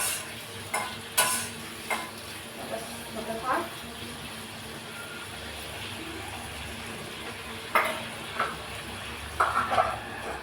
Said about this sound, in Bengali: আলুটা এখন ভাজতে বসালাম